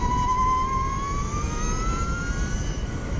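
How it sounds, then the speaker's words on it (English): An Energica electric motorcycle with reduction gear and chain drive winds down off throttle, a clear descending-then-rising electric whine with steady tonal harmonics over road and wind rumble, close and fairly loud. "And I love it when you roll off and you get this powering down sound."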